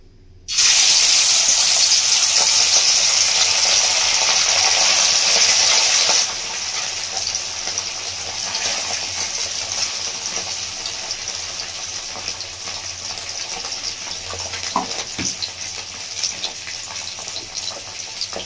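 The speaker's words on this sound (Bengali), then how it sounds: "তো আমি এবার মাছগুলো ভেজে নেব।" Small chela fish drop into hot oil in a village-style Bengali wok, setting off a loud burst of sizzling that settles into a steady, hissing fry.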